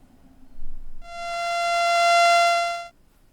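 A single sustained sawtooth-wave tone from a theremin, bright and buzzy, swelling in for about two seconds and then cutting off.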